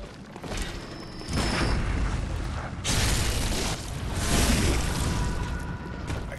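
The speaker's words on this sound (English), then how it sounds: "Try to get some shelter from the rifle fire." Rifle fire in the video game Bloodborne comes as heavy, booming blasts in several broad surges over constant loud game noise, with no clear gaps of quiet.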